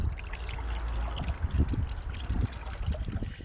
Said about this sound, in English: listening to the sound of running water can give you an incredible sense of calm.